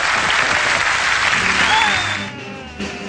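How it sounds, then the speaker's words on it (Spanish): Loud, dense crowd applause at a tribute event for the Mexican comedian Capulina, sustained for about two seconds and then fading out, with faint voices rising as it dies down. "Denle un aplauso también."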